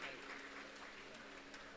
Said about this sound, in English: we request you to please have a round of applause for Professor Ganesh Pokhle sir.